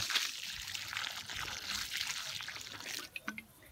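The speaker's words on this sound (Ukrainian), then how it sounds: "поливаємо наші помідори" Warm water poured onto tomato plants in a garden on a hot day, a faint steady trickle and splash that ends in a few light drips.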